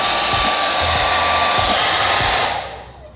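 A hair dryer blows hot air onto a motorcycle sticker with a loud, steady whooshing whir that runs continuously and then winds down and cuts off near the end.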